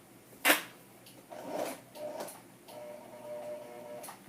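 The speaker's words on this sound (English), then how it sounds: "Oh, I'm having sewing machine issues." A sewing machine stitches scrapbook paper layouts while something catches underneath it: a sharp click, then short whirring motor bursts with small ticks, fairly quiet and close.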